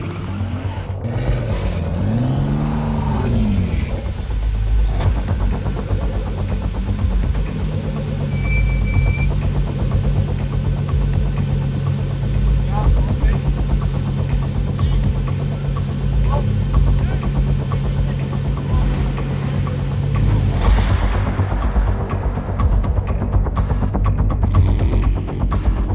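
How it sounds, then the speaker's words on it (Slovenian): Drift cars at a night drift event rev their engines and warm their tyres before a top 32 battle, loud sustained engine drone with rising and falling revs and squeal-like sweeps, under crowd and talk. "prva dva se pripravljata, že se grevata gume za prvi današnji battle"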